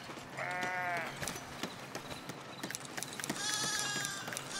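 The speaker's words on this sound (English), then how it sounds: "Baby sheep." A baby sheep bleats in the Foundation video game on a sheep farm, two distinct wavering bleats separated by a few seconds, heard over soft game background sounds and light clicks.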